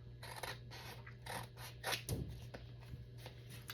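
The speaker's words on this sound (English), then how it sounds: "when you do cut it, you'll have to use, you know, a good heavy pair of scissors because it is, you've got like 3 book pages under there." Heavy scissors cut through three layered book pages glued up as a faux cabinet card, making a series of close, crisp snipping and crunching strokes in a quiet room with no speech.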